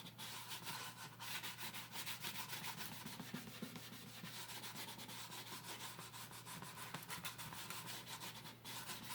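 Elastomeric coating on XPS foam for a camper trailer insert is being smoothed out, a continuous close scraping and rubbing with a fast, even stroke rhythm and a low steady hum beneath it.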